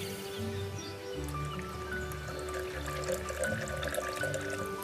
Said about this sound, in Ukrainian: Решту ми доливаємо водою.